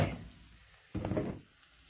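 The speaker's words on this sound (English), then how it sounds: "The pizza was definitely not hot enough for me to record the sizzling, so I had to microwave it." Microwaved pizza gives off a soft crackling sizzle, fading after an initial burst, then a brief louder flare of hissing and crackle recorded up close without talk.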